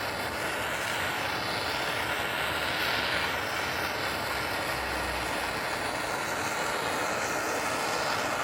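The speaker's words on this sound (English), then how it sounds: "Grab the blowtorch, warm it up a little bit." Blowtorch heating a bolt on a Chrysler 300 Redeye during a rebuild: a steady, loud roaring hiss that holds unbroken throughout, close by, with no talk.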